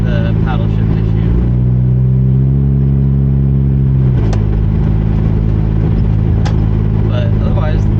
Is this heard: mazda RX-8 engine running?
yes